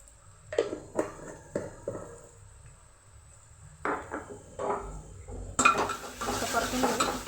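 Spices being sautéed in a pan for a spicy Maharashtrian mutton curry, with a run of metal spoon scrapes and clinks against the pan and a brighter sizzling stir near the end, close and fairly quiet, no talking.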